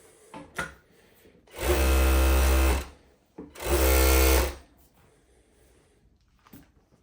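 A JACK K5-UT-01 cylinder-arm coverstitch industrial sewing machine runs two loud, steady bursts of about a second each, stitching a top-and-bottom zigzag, with quiet pauses and soft handling noises between runs.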